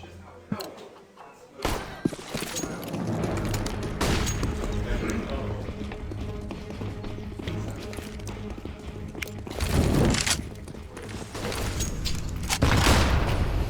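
A grenade bursts in a CS:GO esports match amid bursts of gunfire and booms, with caster commentary running over the action.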